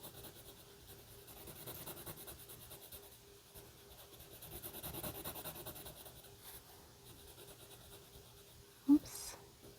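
A pencil draws on paper in soft, continuous scratching and rubbing strokes, faint and close, with a brief louder tap near the end and no talking.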